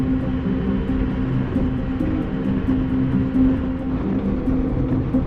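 Steady rumbling of a train rolling along the track in Niigata Prefecture, Japan, a continuous hum with faint rhythmic clatter, heard from on board near the driver's cab.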